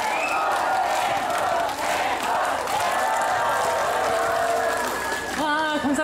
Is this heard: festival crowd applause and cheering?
yes